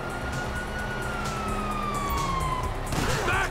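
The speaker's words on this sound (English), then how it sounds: "you hear that? Sirens!" Wailing police sirens in Grand Theft Auto V sweep in the distance over a busy, noisy background, with faint shouting voices near the end.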